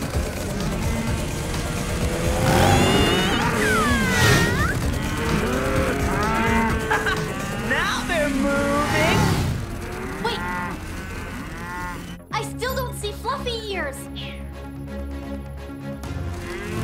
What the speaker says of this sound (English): Let's go wrangle us some cows.